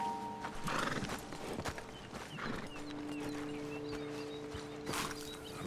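Horses in Red Dead Redemption 2 whinny and shift their hooves beside a road ledge after riders dismount, with a clear neigh early on and another near the end over a steady outdoor ambience, without speech.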